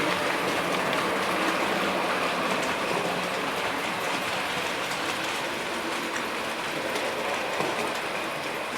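A Bachmann model train set runs continuously, a dense, even clatter and hiss of small wheels on track that holds steady throughout without pauses.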